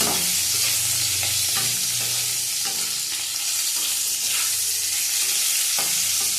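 Bitter gourd sizzles hard in hot oil while a spatula stirs and scrapes the pan, so a continuous close, loud frying hiss carries repeated scraping strokes at an irregular pace, with no voices.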